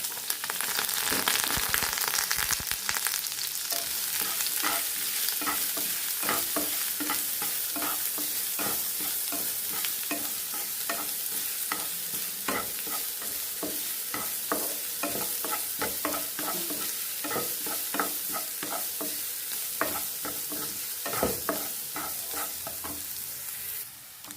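Ginger, curry leaves, a small onion and two carrots fry in a pan with a loud continuous sizzle, punctuated throughout by frequent scraping and clattering stirs.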